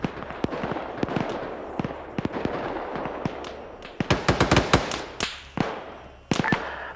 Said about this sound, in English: I think he just shot Hazmat up.